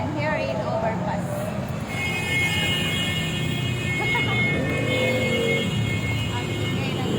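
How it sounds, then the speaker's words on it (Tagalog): Steady road traffic noise heard from an overpass at evening, a continuous broad roar of passing cars and vehicles, with a person talking over it. "Ang ingay ng sasakyan."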